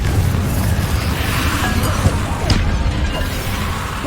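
A Confringo fire spell cast in Hogwarts Legacy lands as a booming blast, one sharp burst standing out midway through a dense, continuous wash of combat noise.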